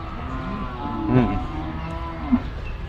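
Cattle at a Thai livestock market, including young lean steers bought for fattening, give a loud low moo midway, with a second shorter low call near the end over steady market background noise.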